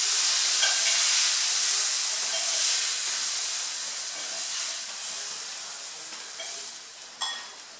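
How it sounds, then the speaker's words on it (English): Pieces of lamb browning in a hot frying pan for a tagine, giving a steady, close sizzle and hiss that runs throughout and fades a little toward the end, with a few faint clinks near the close. "And now the meat is now brown from my last batch"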